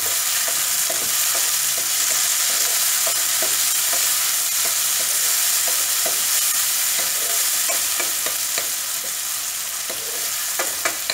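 Tomatoes hit hot oil with browned onions and fry with a continuous sizzle. A utensil stirs through the pan in regular scraping strokes throughout, and no one speaks.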